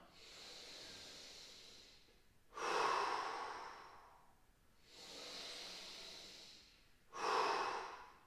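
Slow, deep breaths in and out through the mouth during a mobility exercise, two full cycles of long soft inhales followed by stronger hissing exhales, close and quiet with no speech.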